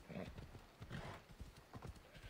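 Horse hooves clip-clop steadily in a video game as the rider explores a coastline, rhythmic footfalls under faint background sound and a little speech.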